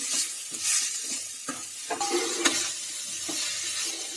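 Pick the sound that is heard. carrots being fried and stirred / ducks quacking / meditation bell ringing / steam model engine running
carrots being fried and stirred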